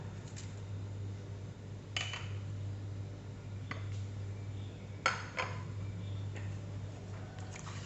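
Rice with pandan leaves and spices stirred in a pot, faint scattered clinks and scrapes of a utensil against metal over a low steady hum, quiet and intermittent.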